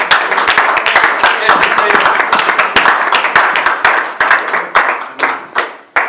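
A church congregation claps loudly and rhythmically in unison, a dense run of sharp hand claps mixed with acclaiming voices, close and sustained before thinning out at the end.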